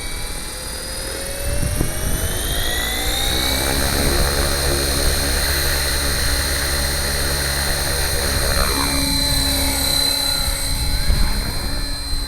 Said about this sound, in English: Spooling up beautifully quietly.